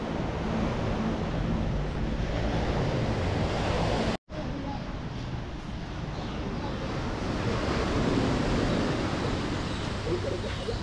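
Waves wash onto a sandy beach at Sosúa in the Dominican Republic, a steady broadband rush blended with wind buffeting the microphone, briefly cut out once and otherwise continuous, with no voices.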